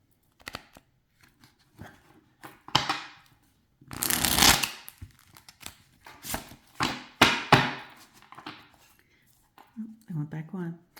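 Crisp, papery riffling bursts of a Rider Marseille tarot deck being shuffled, coming in several quick rounds with brief pauses between, close to the microphone, with soft voice sounds near the end.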